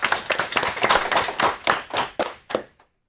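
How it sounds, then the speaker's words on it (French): Audience clapping for two readers at a live reading event, a burst of hand claps that thins toward the end and stops, with no talk over it. "On peut les acclamer, on peut les encourager déjà."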